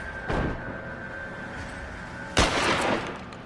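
Two loud shotgun blasts in L.A. Noire, spaced about two seconds apart, each a sharp broadband boom that decays over a steady background hum.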